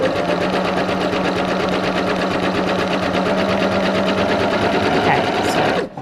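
A sewing machine runs a zig zag stitch in one continuous, loud, fast mechanical whir with rapid rhythmic needle clatter, stopping abruptly at the end.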